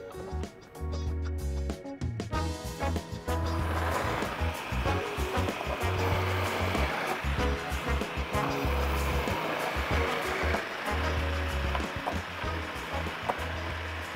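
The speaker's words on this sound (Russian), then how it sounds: "Для этого я взял комбайн и на нем буду сейчас шинковать морковь." A food processor runs continuously at close range, shredding carrots with a loud, dense whirring and grinding punctuated by rhythmic low thumps as pieces are fed through.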